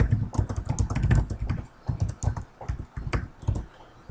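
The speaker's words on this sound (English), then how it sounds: "Let me type that in real quick." Keys clatter in quick irregular bursts as someone types a search query on a computer keyboard, close and fairly loud, with a few short pauses between runs of keystrokes.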